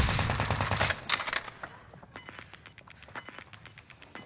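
Bursts of rapid gunfire from a video game battle royale rattle loudly at the start, then thinner scattered shots follow in an uneven rhythm, mixed with faint beeping game tones.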